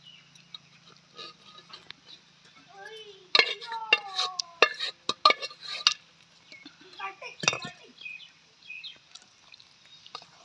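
Mutton pieces dropped into a pan of gravy base and stirred, with clinking metal, scraping spoon strokes and light sizzling, close and fairly quiet, while someone talks over it.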